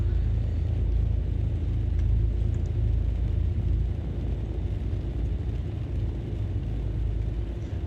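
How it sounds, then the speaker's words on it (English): Thunderstorm rumbling in the background of a Beechcraft Baron 58 flight simulator game, a deep, continuous low rumble that stays steady and fairly loud throughout with no voices. "The thunderstorms in the background."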